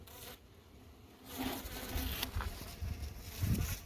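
Honeybees swarm over a hive feeder, giving a close, continuous buzzing hum that swells louder partway through, with faint rustling and small knocks underneath.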